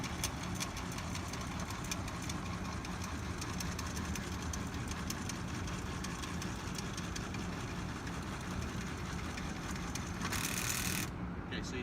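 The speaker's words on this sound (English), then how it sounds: "Okay, so you see how it's slipping here and not damaging those gears." A UTV-mounted weed wiper hitch boom lift runs steadily as its slip clutch slips at the bottom of travel, a continuous mechanical engine-like drone with faint rattling, close and even throughout, without speech.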